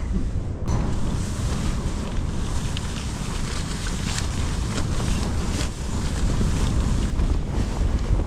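Strong, steady wind roars and buffets the microphone at minus 30 degrees on Nepal's Surya Peak, a continuous loud, gusty rush with no break.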